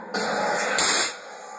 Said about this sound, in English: the sound you just heard was an air cannon shooting 150 psi across the room